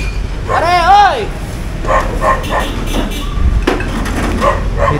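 A dog barks a few times close by near a cooking area, with people talking loudly over the barking.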